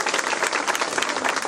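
A short, dense burst of clapping from a school audience at Emkhombe High School, close and lively.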